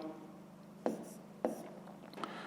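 Pen writing out the first step of a fifth-grade math solution on paper, a soft scratchy sound with two sharper taps and a faint final stroke, close and quiet over a low steady hum.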